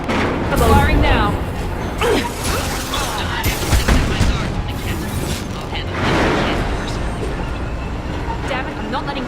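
Gunfire and heavy booms from a firefight in the video game Mass Effect 2 rumble on and off beneath a voice speaking over the action.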